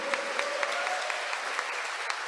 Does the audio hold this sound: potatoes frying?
no